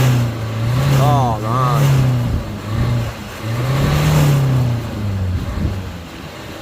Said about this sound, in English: Give it a rev, someone.